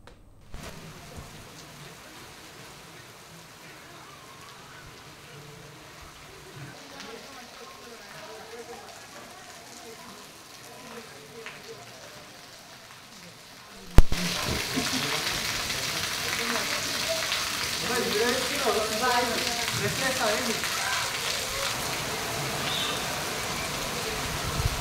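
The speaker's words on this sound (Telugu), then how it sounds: "ఫిలిం నగర్లో భారీ వర్షం పడుతోంది" Heavy rain falls in Film Nagar as a broad, hissing downpour that grows noticeably louder partway through, heard beneath a narrator's voice.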